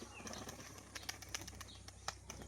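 A pigeon, a green-crested female tumbler, beats its wings in quick bursts while performing flips, with soft sharp flaps and faint bird chirps against a quiet outdoor background.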